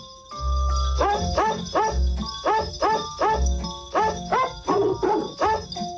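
Recorded dog barks pitched to a melody in a 1955 novelty song, a rhythmic run of loud barks over a light musical backing.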